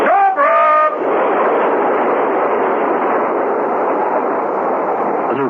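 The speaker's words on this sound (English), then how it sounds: "The train screeched to a stop at the station." A train screeches to a stop at a station: a short, shrill metallic squeal at the start gives way to a loud, steady rushing rumble of the slowing train that lasts to the end, with no voices.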